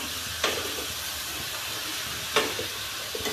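Tadka tempering sizzles in hot oil for a capsicum and potato curry, a steady close hiss broken by a few short crackling spurts, with no talking.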